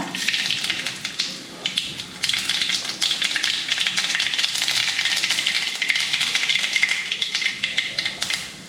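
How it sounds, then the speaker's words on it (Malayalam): Dense crackling and rapid popping of mustard seeds in hot oil, steady and close, with sharp little bursts throughout and no voices. "എണ്ണ ചൂടായി കടുകിട്ട് കൊടുക്കുക"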